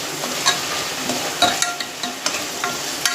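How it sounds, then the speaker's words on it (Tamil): Green chillies and tomatoes sautéing in a pan over a high flame, giving a steady bright sizzle with frequent light clicks and scrapes of a stirring spoon, close and continuous, with no one speaking. "அதில் போட்டு நல்லா வதக்கி விடுவோம். அடுப்பை கொஞ்சம் ஹை ஃப்ளேமில் வச்சுக்கலாம்."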